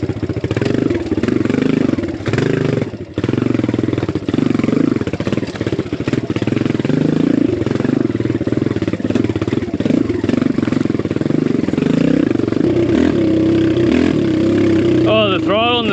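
BBR KLX170RF dirt bike fitted with an aftermarket exhaust pipe, its engine droning steadily close by for the whole stretch with throttle blips near the end, under and alongside talk.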